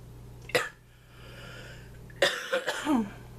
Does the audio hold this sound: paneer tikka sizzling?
no